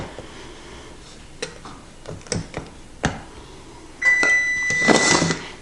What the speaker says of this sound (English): That's my oven.